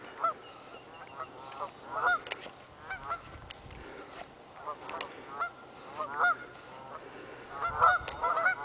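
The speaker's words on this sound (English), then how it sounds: "I'm afraid you're not going to catch those geese." Geese honk repeatedly outdoors in scattered bursts at moderate distance, several overlapping calls rising and falling over a low steady background.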